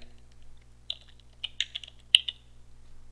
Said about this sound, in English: let's try typing in the users command